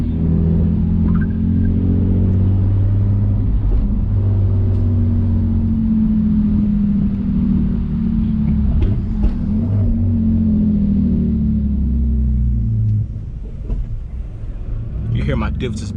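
A BMW E46 drives with its differential sagging onto the sway bar, giving a constant low droning rumble that swells and fades with speed, with scattered knocks and brief rattles near the end.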